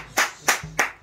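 A church congregation claps hands together in three loud, evenly spaced claps, close and crisp, with no talk over them.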